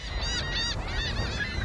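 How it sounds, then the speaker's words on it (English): Gulls crying in the film The Lighthouse, a cluster of loud, harsh honking calls repeating close together over a steady roar of wind and sea, with no talking. "The gulls were laughing at him"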